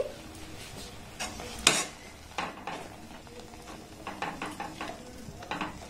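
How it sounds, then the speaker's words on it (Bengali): A spoon stirs and scrapes sticky amla candy mixture, seasoned with black pepper powder, in a pan. Soft intermittent scraping strokes come over a faint sizzle, close and quiet. "আবার এটাকে একটু এইভাবে নাড়াচাড়া করে নেব।"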